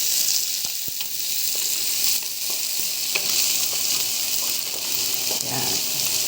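Onions frying in a pan give a steady, close sizzle that runs unbroken throughout, with a few faint clicks and stirring scrapes on top and no speech.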